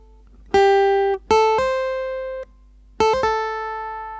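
Clean plucked guitar notes ring out, with quick legato changes in pitch from hammered and pulled notes, in two short phrases.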